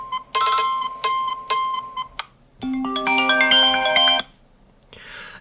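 An iPhone alarm ringtone plays loud and close, with bright repeated chime tones followed by a rising cascade of melodic notes. It stops abruptly and a brief rustle comes after.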